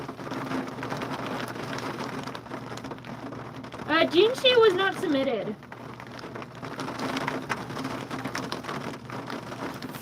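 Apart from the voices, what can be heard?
heavy rain falling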